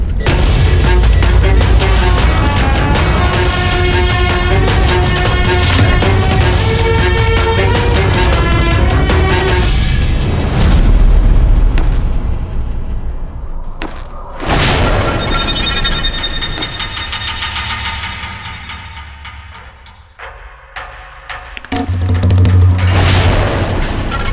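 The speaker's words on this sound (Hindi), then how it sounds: "फिर तो हम अवश्य ही आग लगाएंगे। एक बड़ा धमाका होगा, भयंकर अफरा तफरी मचेगी" A gunpowder-filled tent blows up in a Mughal-era Rajput war story, with several deep booms and blasts over loud dramatic music, the heaviest bursts coming in the middle and at the end.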